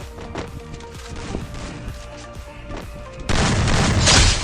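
Gunfire and explosions in the Free Fire game: a run of heavy booming shots and blasts at an even pace, then a loud, dense roar of gunfire and detonation that swells and fills the final second.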